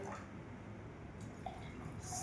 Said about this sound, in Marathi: दोन्ही ग्लासमध्ये आपल्याला पाणी टाकायचं आहे.